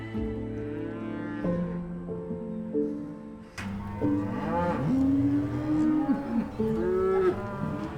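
Cattle on a working farm moo repeatedly through the whole stretch, several animals overlapping with long, loud lowing calls, some near and some farther back, with no talk.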